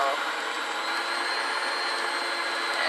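Sunbeam MixMaster FPSBSM2103 stand mixer running at a steady, close, loud motor whine with a bright high-pitched hum, holding evenly throughout with no clear pause.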